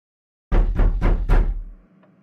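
Four firm knocks on a door, evenly spaced and close by, followed by a short fading resonance and quiet.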